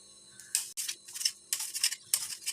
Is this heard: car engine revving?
no